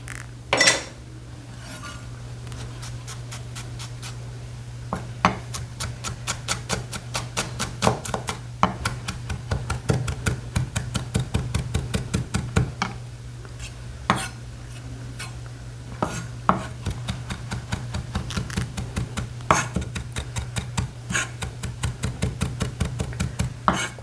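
A knife minces garlic and green onion on a cutting board, with a steady stream of quick, close tapping chops over a low constant hum, in a Korean cooking lesson.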